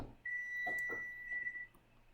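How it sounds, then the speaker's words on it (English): A kitchen timer sounds one steady high electronic beep of about a second and a half, faint against a quiet room with a few soft knocks of household activity in the background. "you keep hearing timers go off"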